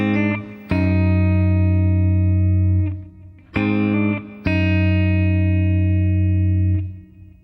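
Distorted electric guitar phrase, picked and hammered on, three sustained chords struck with sharp attacks and long ringing tails, loud and close with effects-laden tone, no voices.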